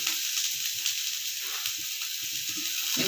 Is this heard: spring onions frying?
yes